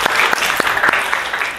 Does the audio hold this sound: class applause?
yes